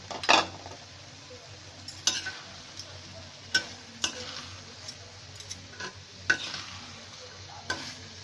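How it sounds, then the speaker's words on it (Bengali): A spatula stirs sweet pumpkin pieces in a frying pan, scraping sharply about six times at uneven intervals over a low, steady sizzle of cooking. "এই যে আমি এখন একটু নেড়ে দিচ্ছি।"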